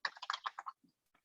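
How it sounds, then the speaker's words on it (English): Close, quiet typing on a computer keyboard during a coding session: a quick burst of key clicks followed by a few scattered taps. "There will be a tiny bit more typing."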